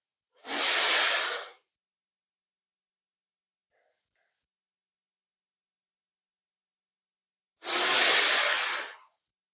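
Two strong, breathy exhalations during a yoga session, one near the start and one near the end, each lasting about a second, with silence between them.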